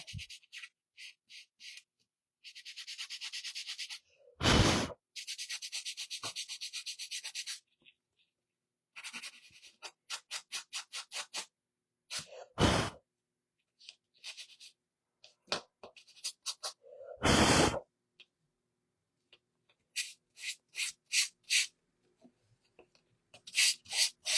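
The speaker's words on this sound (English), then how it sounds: "We sanded cardboard." Cardboard being sanded for a distressed finish on a handmade snowman welcome sign, heard as repeated harsh raspy strokes in bursts of varying length, separated by silences and a few sharp louder scrapes, close up and with no talking.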